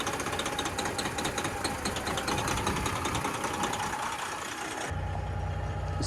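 A replacement truck engine runs steadily up close, rough and uneven with a faint knocking sputter, then its tone drops abruptly to a lower, smoother hum near the end.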